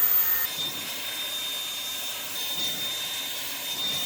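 A hair dryer blows steadily on partly dried hair, a constant airy whoosh holding at an even level throughout with no talking.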